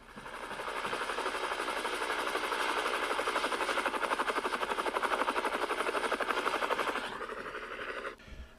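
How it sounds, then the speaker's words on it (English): A helicopter's rapid rotor thumping dominates, loud and steady for several seconds before cutting off abruptly near the end. "Soon, they could hear the sound of a helicopter flying overhead."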